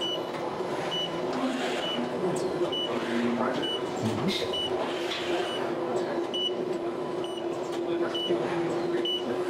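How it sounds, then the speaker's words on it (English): Repeated short, high electronic beeps sound at a steady pace over the hum of an AMADA EGB 6020 ATCe press brake while its automatic tool changer swaps tooling; a voice speaks briefly in the middle. "That alarm is just telling us, hey, your tooling is being changed by the ATC right now?"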